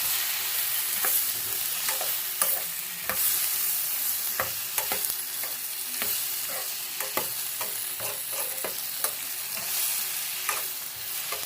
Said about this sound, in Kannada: ಸಾಫ್ಟ್ ಆಗಬೇಕು ಅಲ್ಲಿವರೆಗೂ ಫ್ರೈ ಮಾಡಬೇಕು ಇದನ್ನು